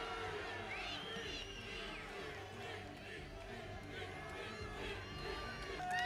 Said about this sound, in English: Crowd roars.